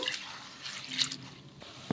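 Soaking water drains off soaked mung beans, rice and urad dal, giving a quiet, close trickle with a few scattered drips and one sharper splash at the end.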